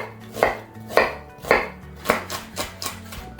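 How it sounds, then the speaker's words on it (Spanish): A knife chops through an onion, likely for a halibut-and-clams dish, with about seven crisp, evenly spaced cuts roughly every half second, close up and with no voices. "A continuación vamos a cortar una cebolla."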